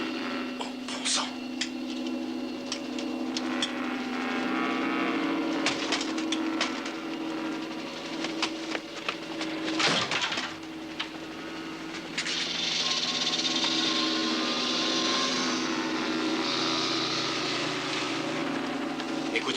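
A steady engine drone of an aircraft overhead, rumbling continuously with a brief thump midway, fairly distant with no talking.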